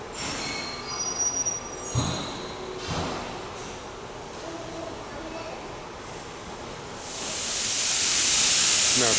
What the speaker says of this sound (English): our Norfolk Southern is still passing, heading east